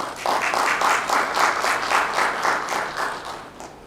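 An audience at a domestic-violence awareness panel gives an educator panelist a round of applause, a moderately loud, rhythmic patter of many hands that pulses gently throughout.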